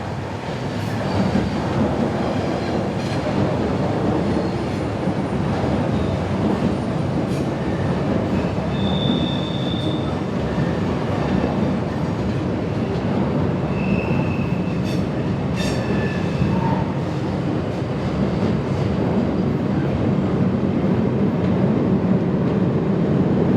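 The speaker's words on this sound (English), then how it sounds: "Here the 1131 from Basel arrives on Friday the 28th of June" A passenger train from Basel pulls into Interlaken Ost station, a steady loud rumble of wheels on rails with clickety-clack joints and several high squeals from the wheels, heard alone with no voices.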